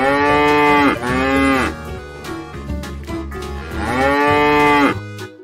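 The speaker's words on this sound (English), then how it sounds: "See cow" A cow mooing twice in long, loud, drawn-out calls close by, with a short quieter gap between them.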